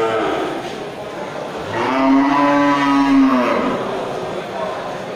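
An Aceh cow lows once in a long, loud moo that rises and holds for over a second at a cattle market, with market chatter and background voices running underneath.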